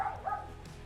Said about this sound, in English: Listen to my little yappy dog.